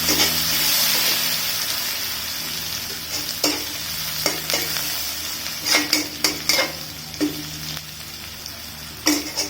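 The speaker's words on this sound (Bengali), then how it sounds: "কুচি করা রসুনটা গরম তেলে দিয়ে দিব" Minced garlic and chili paste fry in hot oil in a pan, a steady close sizzle broken by sharp clicks and scrapes of a spoon stirring against metal.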